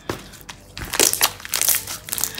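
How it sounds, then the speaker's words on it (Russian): Close, crackly crunching and crinkling in bursts as glue-and-activator slime, slightly sticky, is squeezed and worked by hand. "Хорошо хрустит, немножечко прилипает к рукам."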